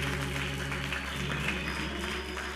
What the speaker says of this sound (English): won't you give the Lord a hand clap of praise?